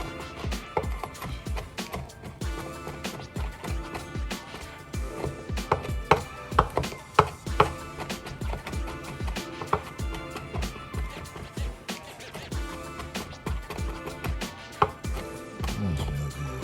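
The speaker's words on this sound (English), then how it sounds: "It's getting all chopped up." A good knife chopping fresh rosemary on a board, a steady run of quick, fairly close knocks with some irregular harder strikes, with no voices.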